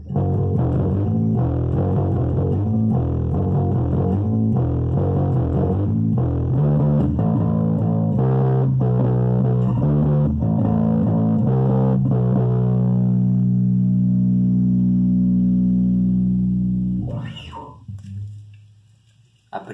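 A bass guitar plays with a clean tone through a ProCo RAT clone pedal, loud plucked notes in a steady rhythm settling into a long ringing note that fades, followed by a few faint handling clicks.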